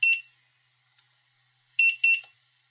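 Sharp, high electronic alarm beeps from a Begode EX.N electric unicycle in short clusters: a burst at the start, a lone chirp, then a rapid double-triple beep sequence near the end.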